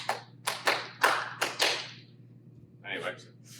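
Hand claps in an indoor home workout setting: a quick series of about six sharp, close claps, followed by a short pause and a few softer taps.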